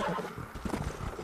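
Horse in Red Dead Redemption: Undead Nightmare, heard as snorts and shuffling hoof sounds over a low game ambience, fairly quiet and unbroken across the short stretch.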